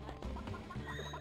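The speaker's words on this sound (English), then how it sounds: "Chickens." Chickens cluck in a game scene, short broken clucks over a dense, steady background din, with no clear speech.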